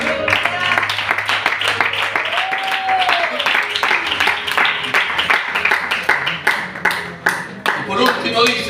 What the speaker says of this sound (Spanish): aplaude si quieres al Señor